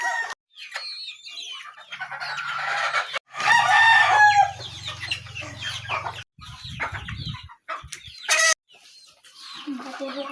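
Organic farm chickens cluck in close, busy bursts, and a rooster crows loudly partway through. Other birds sound around them, and a few brief voices can be heard.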